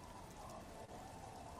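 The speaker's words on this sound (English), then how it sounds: "It's getting late, and it's raining." Rain in the video game Myst V, heard as a faint, steady patter of drops on surfaces, continuous and alone.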